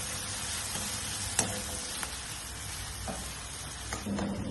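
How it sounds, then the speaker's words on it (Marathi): Onions fry in oil in a pan, a steady close sizzle with occasional scraping stirs of a spoon, no voices. "कांदा सोनेरी होईल, कलर होईपर्यंत चाळत राहायचं।"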